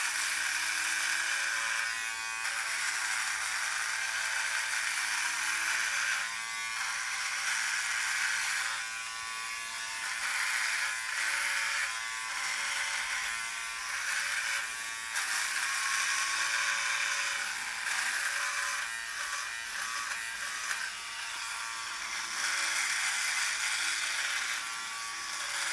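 A Philips Norelco OneBlade 360 electric shaver runs close and continuous, a steady high motor buzz whose tone shifts slightly as the blade moves across skin, with no voices.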